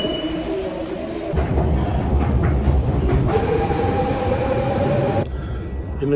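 A Paris metro train at Gare de Lyon station runs with a steady heavy rumble and rolling wheel noise, a whining tone rising over it, loud and close throughout.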